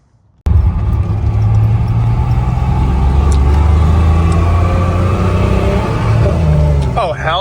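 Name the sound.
truck engine revving with rev match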